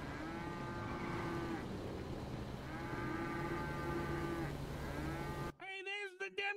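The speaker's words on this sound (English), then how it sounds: "Cows!" Cows in the video game GTA V low out in three long, drawn-out moos spaced a couple of seconds apart, followed by a short burst of a voice at the end.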